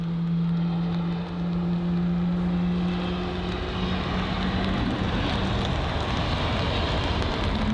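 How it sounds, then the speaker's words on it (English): A British Airways Boeing 777 jet engine roars steadily at Heathrow, a broad, continuous rumble with a sustained low drone, mixed with heavy rain, with no voices. "we've got a loud engine start there. I'm not too sure if you can hear it, but it is roaring"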